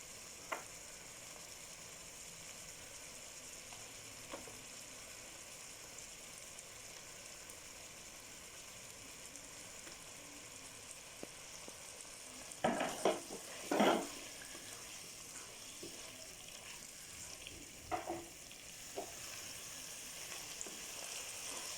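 Chopped onions fry in a pan for chicken jalfrezi, giving a quiet, steady sizzle, with a brief louder burst of clatter and stirring partway through.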